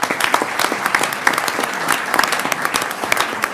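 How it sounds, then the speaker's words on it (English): An audience at a county commissioners court meeting in El Paso gives steady, dense applause that fills the room, even and continuous throughout. "let's get him going with an applause, please"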